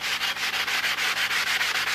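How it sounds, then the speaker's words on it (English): Hand sanding with 220-grit sandpaper wrapped around a foam block on a model Spitfire airframe, a steady rhythmic scratchy rasp of quick back-and-forth strokes, close and continuous with no talking. "I'm just taking a little piece of 220 and a foam block and just kind of sanding it, letting the dust kick it off"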